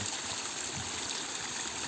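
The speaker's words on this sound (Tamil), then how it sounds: "இங்கே வாங்க பாருங்கள், சின்ன அருவி." Small waterfall beside a farm garden, a steady broadband rush of falling water running evenly throughout, close and moderately loud with no talk.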